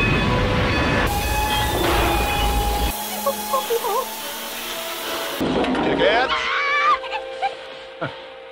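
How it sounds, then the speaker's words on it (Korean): An express train rumbles in and rolls past with wheel squeals and clanking, followed by quieter ambience with a few faint squeaks and a brief voice. "예상 경로에서 피하자 시원하게 진입하는 급행열차"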